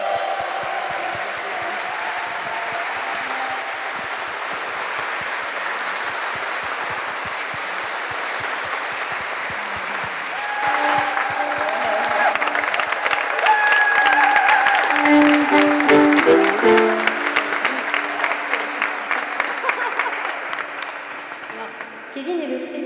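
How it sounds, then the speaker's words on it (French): Applause at a thank-you speech for an association's treasurer, moderate clapping at first that swells louder and denser midway, with a voice heard over it. "Alors là, on peut vraiment l'applaudir aussi."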